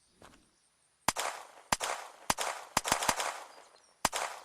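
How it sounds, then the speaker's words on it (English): Rapid semi-automatic shots from a Russian pistol in the video game Unturned, about seven sharp loud reports at uneven, quick intervals with short decaying tails between, after a brief faint quiet start. "It's got a pretty high rate of fire too, semi-auto."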